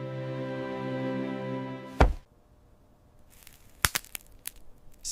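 Pieces of dried kiwi fruit from a drying factory snap once with a sharp, close crack, followed a moment later by a short cluster of smaller brittle cracks.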